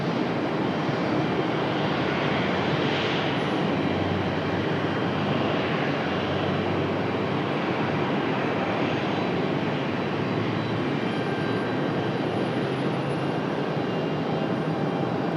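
A Frontier airliner taxiing out for departure at Raleigh-Durham International Airport, its engines giving a steady, fairly loud broadband roar that holds evenly throughout without voices.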